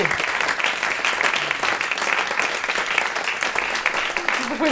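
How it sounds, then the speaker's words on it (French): Theatre audience applause welcomes guests at a round-table event, a dense sustained clatter of many hands that holds at full strength throughout, with voices mixed in beneath. "on peut l'applaudir"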